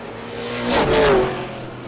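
Outlaw Super Late Model race cars at Springport Motor Speedway roar past, one engine swelling to a loud peak around the middle with a falling pitch before fading, other engines droning behind.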